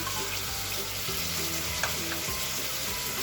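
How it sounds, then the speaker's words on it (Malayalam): Steady sizzle of ginger, garlic, green chili and onion sautéing in a hot pan, a continuous crackling hiss with occasional stirring scrapes and a faint low hum behind. "ഇഞ്ചിയും വെളുത്തുള്ളിയും സവാളയും എല്ലാം നന്നായിട്ടൊന്ന് വഴറ്റിയെടുക്കണം"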